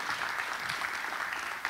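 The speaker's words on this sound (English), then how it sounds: "Let's give him a round of applause." An audience at a conference applauds, steady dense clapping from many hands at moderate loudness for the whole brief moment, with no one talking over it.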